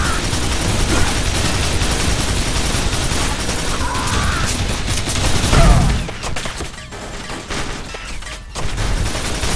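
Dense, loud gunfire and explosions in a Quake 2 mod for Quake 4, a continuous barrage of shots with a heavy blast near the middle, then a brief lull before firing resumes.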